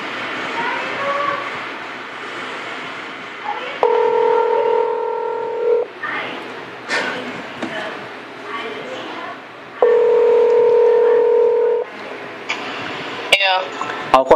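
A cheap phone places a call with two long steady ringback tones separated by silence, while a person talks over the background between and after them and some sharp clicks are heard near the end.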